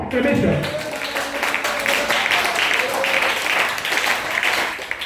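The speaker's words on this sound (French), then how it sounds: "Disons merci à Dieu avec des acclamations" A church congregation claps and cheers in thanks to God during a morning service, a continuous dense wash of applause with voices underneath.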